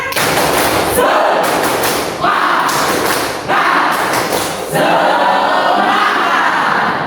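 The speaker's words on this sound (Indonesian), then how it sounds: "Tepuk semangat." A classroom of students claps a loud, tightly synchronized rhythmic spirit clap in repeated bursts with brief pauses between phrases.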